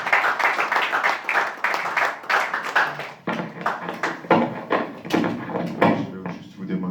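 A church congregation applauds, with uneven bursts of clapping mixed with voices and shouting from the crowd, fairly close and lively throughout.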